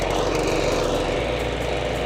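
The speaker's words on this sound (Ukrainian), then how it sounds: "Затискаємо важіль щеплення та запускаємо газонокосарку" A Dnipro-M petrol lawn mower engine is already running, giving a loud, close, steady mechanical drone throughout with no starting pull heard.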